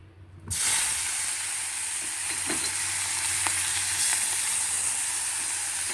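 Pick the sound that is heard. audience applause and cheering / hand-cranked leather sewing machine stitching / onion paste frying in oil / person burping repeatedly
onion paste frying in oil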